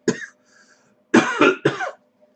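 Hacking coughs after taking a cannabis dab: one short cough, a pause, then a loud close burst of several harsh coughs, with no talking.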